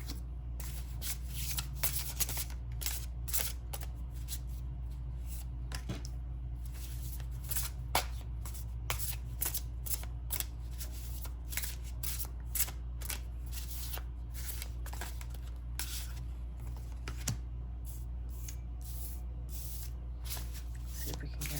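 Tarot cards shuffled close up for about twenty seconds, a steady run of crisp papery rustles and flicking riffles over a low constant hum.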